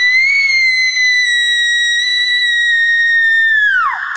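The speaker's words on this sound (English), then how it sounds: "A human woman screaming." A long, loud, high-pitched wailing scream said to come from Bigfoot, sounding like a woman screaming; it holds one sustained tone with a slow droop and drops away sharply at the end, alone with no talk.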